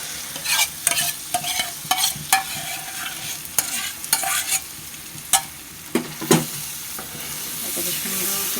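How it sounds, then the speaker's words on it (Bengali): Soaked semolina with milk poured into coffee-coloured caramel and stirred for semolina halwa, with scraping spoon strokes against the pan and bursts of sizzling in an uneven rhythm, close and moderately loud, no talk. "এখন আমি ভিজানো সুজিগুলো দুধ দিয়ে আস্তে করে ঢেলে দেব।"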